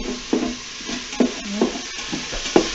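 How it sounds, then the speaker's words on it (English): Vegetables being sautéed in an Instant Pot for beer cheese soup, a spoon scraping and stirring the inner pot in about six distinct strokes over a constant soft sizzle, close up with no talking. "let's just saute that right up"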